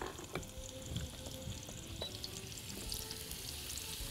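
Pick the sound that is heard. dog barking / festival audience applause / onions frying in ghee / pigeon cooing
onions frying in ghee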